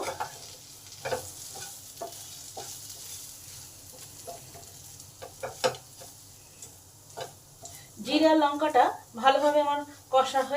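Potatoes with cumin and chilli powder frying and being stirred in a pan for bhindi masala, a faint low sizzle with occasional spatula taps, then a voice speaks near the end.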